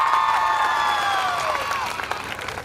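A crowd claps for a young girl who finished fourth in a Beti Bachao Beti Padhao marathon. The clapping fills the whole stretch, steady and fairly close, with a whistle-like tone sliding down over it.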